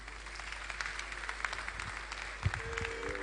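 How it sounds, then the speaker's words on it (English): Audience applause in a hall after a speaker at a constitution review committee sitting, a steady, moderate spread of clapping lasting throughout. "A round of applause for him as he makes his way to seat"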